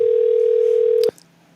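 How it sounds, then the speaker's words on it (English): A steady dial tone sounds alone on a live call-in phone line, holding for about a second before cutting off with a short click, leaving faint line hiss. "let's head over to the line real quick and see if we can get this person on the phone"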